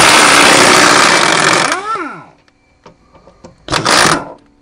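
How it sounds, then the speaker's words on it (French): An impact wrench on an 18 mm bolt, removing a front shock absorber from a Chrysler 300C, gives a loud sustained rattling buzz that winds down in a falling whine, followed later by a second short burst. "Là on peut y aller à la clé à choc tranquille"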